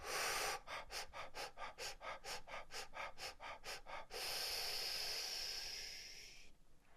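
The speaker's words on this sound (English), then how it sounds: "I'm going to breathe through my teeth so you can hear me breathing" Rapid, forceful breaths hissed through the teeth in a fire breathing exercise, about a dozen sharp rhythmic pulses, followed by one long sustained exhale that slowly fades, close and loud with no talking.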